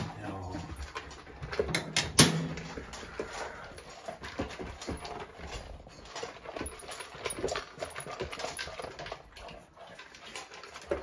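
A Great Dane begging for food, giving soft, faint whines and whimpers near the start among quiet rustling and background noise indoors.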